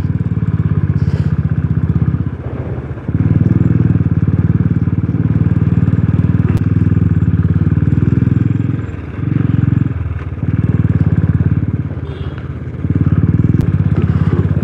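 Motorcycle ridden through a village in Rafiabad, Kashmir, its steady engine drone loud and close throughout, briefly dipping a few times as if easing off the throttle, with occasional clatter and thumps from the rough road.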